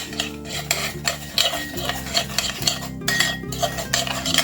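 A metal spoon stirs a cinnamon mixture in a bowl, scraping and clinking against the sides in quick, steady strokes, loud and close with no talking.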